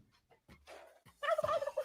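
A turkey gobble sound effect: a few soft clucks, then a loud, close, rapid rattling gobble lasting under a second, with no one speaking.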